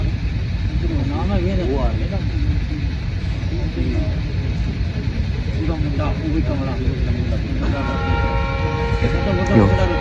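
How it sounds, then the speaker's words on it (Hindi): Train arriving at a station in Punjab, a continuous loud rumble with a horn toot near the end, under people talking nearby. "ट्रेन आने वाली है, आ चुकी है।"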